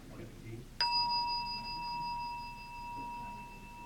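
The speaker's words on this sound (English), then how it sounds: "The first thing we'll do is we'll just set the tone with our bell." A meditation bell is struck once and rings out with a clear, sustained tone that slowly fades over several seconds, with faint room noise and a little murmur in the background.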